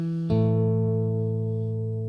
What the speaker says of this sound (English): Then together we hit the open A and the A octave